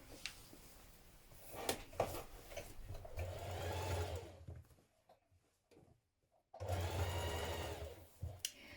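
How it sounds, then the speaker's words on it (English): A sewing machine top-stitches the hood seam of a sweatshirt, a Simplicity 9240 hoodie. The motor whirs in close, steady runs, stops for about two seconds, then starts again with a few light clicks in between. "from the outside at this point you can top stitch down your seam to your sweatshirt"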